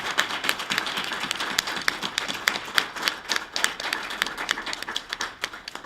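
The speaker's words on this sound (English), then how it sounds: "Let's give them a round of applause." A small audience at a talk applauds, producing a steady patter of close, crisp individual claps that continues throughout.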